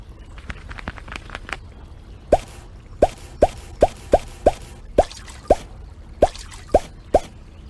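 Tapping shell fossils and green jade stones in the Molly of Denali video game gives a run of about a dozen short, bright plopping taps at steady intervals, after a quicker cluster of softer blips, with no talk.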